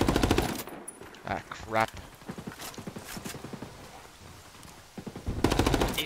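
Automatic gunfire in the Ghost War multiplayer video game, with rapid bursts at the start and again near the end, and someone talking in between.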